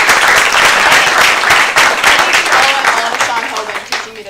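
Applause at a school board meeting, many hands clapping loudly and close, a busy continuous patter that slowly thins toward the end.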